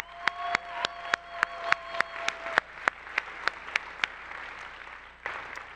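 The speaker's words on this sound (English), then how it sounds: "Can we just give all these speakers a hand of applause," An audience at an AI research event applauds the speakers: a sparse, sharply spaced run of individual claps in a quiet room, fading out near the end.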